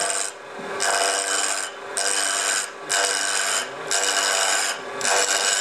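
Wood lathe turning a cigar ash tray, a steady bright rasping hiss of the tool cutting the spinning wood, pulsing in about five long passes with brief dips between.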